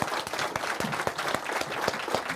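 A theater audience at a Sedona mayoral debate gives the two candidates a round of applause, a busy, continuous patter of many hands clapping at moderate loudness with distinct individual claps poking through.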